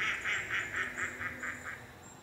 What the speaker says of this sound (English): You may see some migrants like these mallard ducks stopping in for a rest on their migration south.